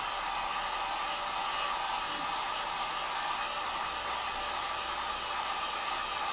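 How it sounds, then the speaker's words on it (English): A heat gun blows steadily as it shrinks plastic wrap onto a jewel case, a constant loud rushing hiss that holds unchanged from start to finish, close up and alone. "now you gotta be careful with this because this heat gun is pretty hot"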